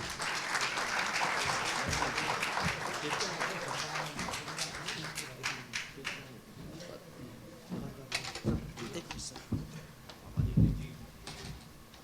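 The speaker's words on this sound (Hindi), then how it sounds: "जोरदार तालियों से स्वागत करें" Crowd applause welcoming the Chief Minister of Haryana onto the stage at a Chandigarh dialogue event, loud and sustained at first, then thinning into scattered claps with a voice over it.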